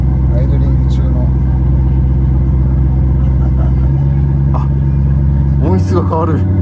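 A 30-series late-model Toyota Alphard fitted with a muffler speaker system idles loudly and steadily with a deep, throbbing rumble. The low tone shifts as the simulated sound changes, with people talking over the engine.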